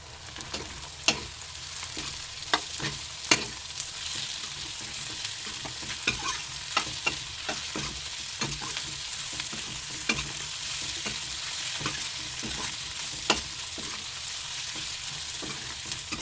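Onions fry with spices in a pan, a continuous near sizzle with frequent sharp clicks and scrapes of a spoon stirring against the metal.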